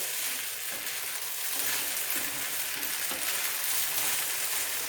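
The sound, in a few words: stirring sabu (sago) pulao with a spatula in a pan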